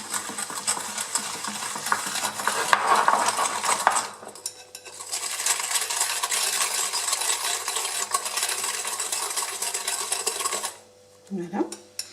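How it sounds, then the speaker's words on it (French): A mixture flavoured with lemon aroma is stirred in a bowl with a steady, busy scraping and clinking that stops briefly after four seconds, resumes, then ends with a short pause and a few faint knocks. "Je mélange un petit peu."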